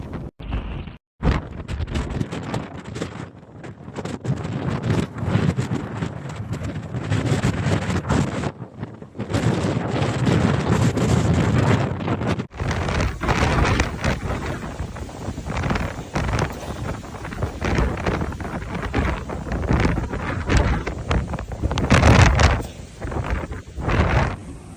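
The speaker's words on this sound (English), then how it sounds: "The city of Fujian in Fujian has already experienced strong winds, with gusts forceful enough to dislodge large solar panels" Strong winds from super typhoon Kong-Rey in Fujian, China, roar as sustained gusty blasts buffeting the microphone, loud and turbulent, with a brief break and abrupt cuts between segments.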